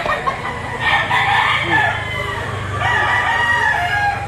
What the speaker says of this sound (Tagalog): Ito naman ay mga bull stag and cock.